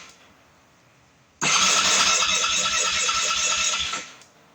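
A 2020 SWM RS500R motorcycle engine starts abruptly after a quiet moment and runs with a loud, steady, rough close-up roar for about two and a half seconds before cutting off, with no talking.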